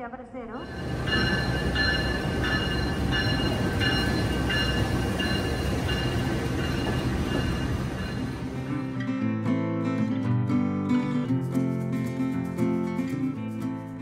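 The KA Ambarawa Ekspres passenger train rolls into Surabaya Pasar Turi station with steady loud rumble and squealing wheels, then a tonal horn or chime sounds as it comes to rest; faint voices underneath.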